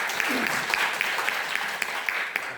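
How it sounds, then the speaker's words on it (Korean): Audience at a surgical society's special lecture gives a warm round of clapping for the incoming speaker, a dense steady patter with a few sharper individual claps standing out. "큰 박수로 강의 부탁드리겠습니다."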